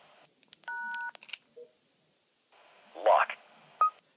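A handful of short DTMF keypad beeps keying a lock code into an Arcom 210 repeater controller over a radio link, with quiet gaps between the tones and a brief burst of radio voice in between.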